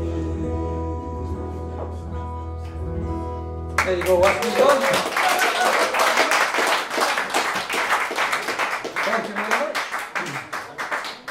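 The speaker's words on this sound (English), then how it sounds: "I think we need a bigger clap than that." An audience claps together after a sung line: steady, dense applause from a live comedy-music crowd that follows a stretch of singing and carries on to the end, fading slightly.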